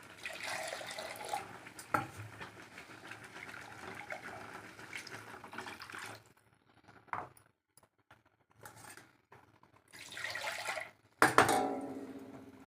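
Water poured into a pan of egg curry cooking with chilli powder and oil, a continuous splashing pour for about six seconds, then short bursts of pouring and a final clatter.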